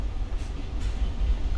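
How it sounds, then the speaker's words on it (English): An approaching train in the video game Life is Strange 2 makes a heavy, steady low rumble that swells slightly, with a faint airy wash above it and no voices. "Oh, a train is coming."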